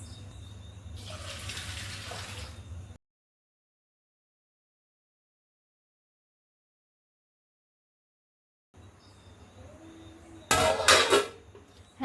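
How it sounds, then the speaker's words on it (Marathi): Water runs and splashes into a bowl as chana dal is washed, a short soft pour, then a gap of silence, then another pour ending in a louder burst of splashing close by. "आता मी डाळ 2-3 पाण्याने धुवत आहे."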